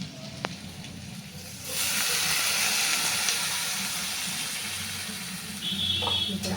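Water splashes into a hot pan of potatoes, setting off a loud, steady hiss of sizzling steam that holds for several seconds and then fades slightly.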